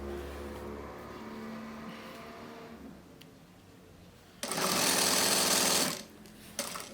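A sewing machine stitches binding along the edge of a cotton dish towel, its motor running in one loud steady burst of about a second and a half, preceded by a quieter low whir, with no talking.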